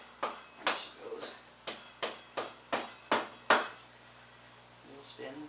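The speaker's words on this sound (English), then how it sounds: "Get the old dead blow hammer out." A dead blow hammer taps a 1996 Yamaha YZF600 motorcycle's front fork axle into place, about nine sharp metallic knocks in an uneven rhythm, close and loud, ending with a faint clatter.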